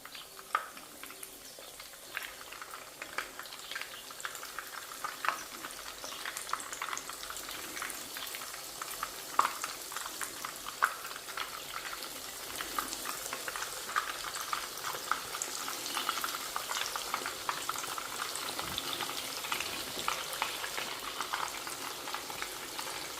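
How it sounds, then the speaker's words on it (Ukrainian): Breaded mazuryky frying in oil in a pan give a steady, close crackling sizzle with dense popping throughout, no voices over it. "Жарю їх із двох сторін до такої рум'яної шкориночки"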